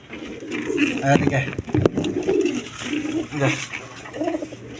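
Jacobin and Maltese pigeons cooing in repeated soft rolling phrases close by, mixed with someone talking over them and some handling noise.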